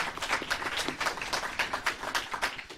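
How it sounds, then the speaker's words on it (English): Audience applause at the grand opening of the Gateway Medical Respite Center, a moderate crowd clapping steadily and fairly softly, with individual claps audible in the mix. "A round of applause for all the work they do."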